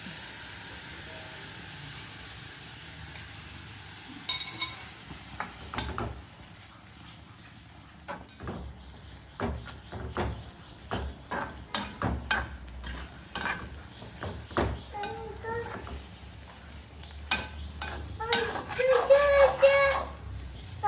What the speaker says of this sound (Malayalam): ഐസ്ക്രീം അല്ലത് മുട്ട പൊരിക്കുവാണ്